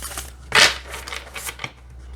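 A new This Might Hurt tarot deck being shuffled by hand in a quiet room, a short crisp riffle burst followed by softer papery card slides and taps, up close.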